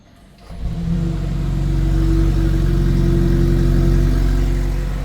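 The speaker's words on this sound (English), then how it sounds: "let's hear that remote engine start, cold start" A 2026 BMW X3 30 xDrive mild hybrid engine starts cold by remote after a quiet moment, rising quickly into a steady, loud idle hum that holds without any cranking sound.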